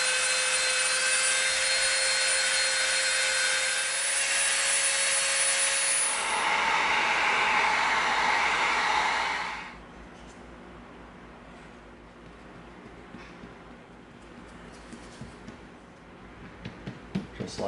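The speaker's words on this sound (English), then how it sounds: "we're going to soften the inside of this circle with our Dremel" A Dremel rotary tool whines loudly and continuously while softening the inside of an EVA foam circle for a samurai helmet, its pitch shifting as it works, then cuts off, leaving quiet handling noises.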